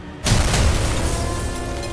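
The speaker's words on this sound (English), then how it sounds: "There's been an explosion." After a moment of quiet, a skyscraper explosion in a film trailer hits as a sudden deep boom, then rolls on as a heavy, sustained low rumble that slowly fades.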